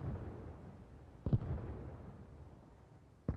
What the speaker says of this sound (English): I think they have artillery fire from them